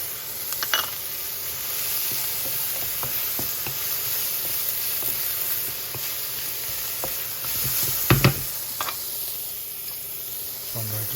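Garlic sizzles in a hot pan, a steady close-up frying hiss with a constant high whine and occasional clinks and stirring taps, no voices.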